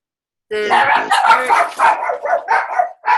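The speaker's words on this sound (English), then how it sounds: "so the dogs are going bark" Several dogs bark loudly and close by in a home as someone arrives, a burst of overlapping yips and barks that starts abruptly and continues in uneven bursts.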